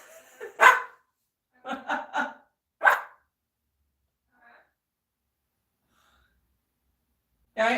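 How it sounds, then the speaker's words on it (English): A dog barks close and clear in short bursts: a single bark, then a quick run of three, another single, a long silent pause, and one more bark at the end. "I'm going to let this run for a few minutes because Max usually does not bark live for Tango"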